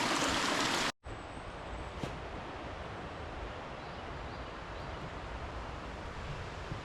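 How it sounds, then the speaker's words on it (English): Bee Gum Creek flows as a soft, steady wash of water along a mountain trail, faint and continuous after a brief louder burst at the start, with no voices. "I've been following, it's called the Bee Gum Creek, Bee Gum River."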